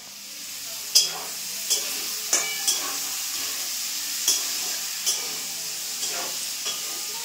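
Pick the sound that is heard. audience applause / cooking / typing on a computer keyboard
cooking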